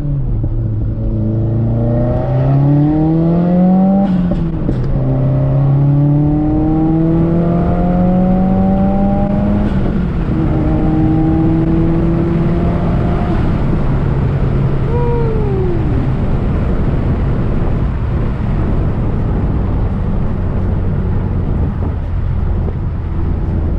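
A tuned Subaru WRX with over 400 wheel horsepower and a turbo, pulling hard through the gears. Loud, close engine tones climb repeatedly in rising sweeps, then settle into a steady drone with a brief falling whistle.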